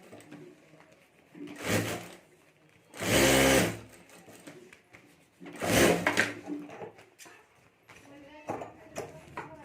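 A sewing machine stitches along the top edge of a handmade wedding potli bag, running in three short, close whirring bursts separated by pauses while someone talks.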